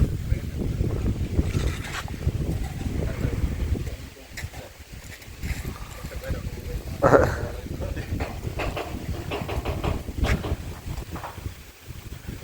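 Wind buffets a microphone with a continuous rushing roar that rises and falls in gusts, on a forest trek at Vazhachal.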